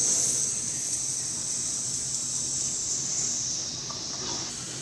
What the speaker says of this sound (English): Then wait for the butter to melt.